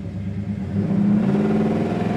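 A 1969 Oldsmobile Cutlass Supreme, restored to bare metal, revs its engine close by, a steady mid-pitched rumble that swells louder partway through and holds there with no talk.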